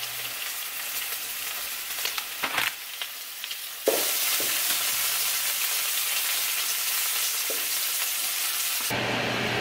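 Ham and bacon frying in a pan for a sandwich, giving a steady broadband sizzle with a few clatters and stirring sounds early on, then a continuous loud crackle until the end.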